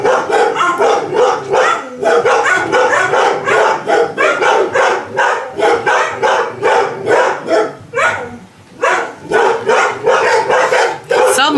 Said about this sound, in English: We're gonna let them bark for a minute because that dog has no business peeing on our mailbox.